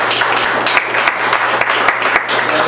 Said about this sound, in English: I just want to say one round of applause for the rest of you